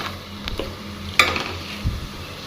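A spoon stirs in a pan of heating milk, giving soft scraping with a sharp clink near the middle, over a low background hum.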